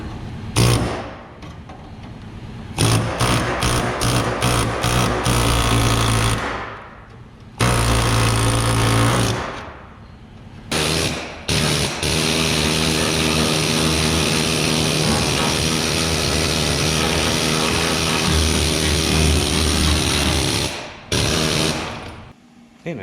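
Loud power tool trimming sheet metal on a 1952 Chevrolet body during quarter panel, rocker and floor pan repair, running in long sustained bursts with short pauses between cuts.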